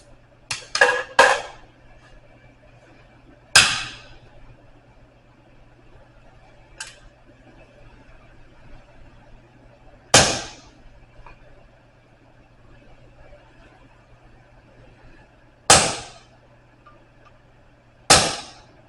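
Hot metal being punched and cut by a blacksmith's hammer: sharp, ringing strikes arrive in a quick triple at the start, then single blows spaced several seconds apart over a low steady forge hum.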